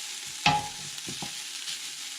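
Onions and black pepper fry in a pan with a steady soft sizzle, broken early by a sharp clink of a utensil and a few brief stirring scrapes, with no one talking.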